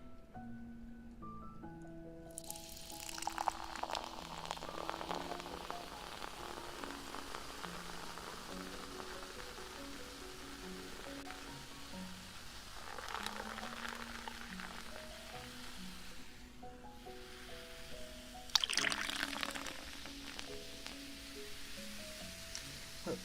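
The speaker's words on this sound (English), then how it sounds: "Fizzy water. Start by giving you guys a little bit of bubbles." Blackberry mango fizzy water being poured and fizzing, a crackling carbonated hiss that rises and falls in bursts, with soft tones from light background music underneath.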